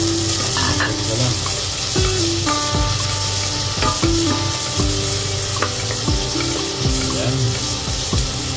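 Onion and ginger sauté in a pan for a home-style sardines and glass-noodle (sotanghon) dish, giving a steady close sizzle with repeated stirring scrapes and clinks of a utensil against the pan.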